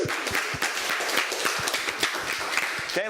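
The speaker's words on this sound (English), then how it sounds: "Huge round of applause here" A small gathering bursts into a hearty round of applause, dense individual claps rattling steadily and close by for a few seconds before tapering off at the end.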